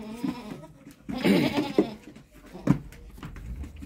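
A large-bodied goat bleats on a farm where it is being sold with its three kids. Two or three short, close bleats come in bursts, with quiet rustling between them.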